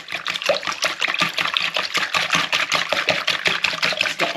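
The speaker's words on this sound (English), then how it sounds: "Just get them eggs all broken up there" Eggs being whisked with salt in a bowl for Christmas baking, a fast steady run of wet tapping strokes close up, with no talking.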